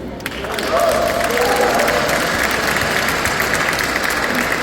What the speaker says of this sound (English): The applause does feel good.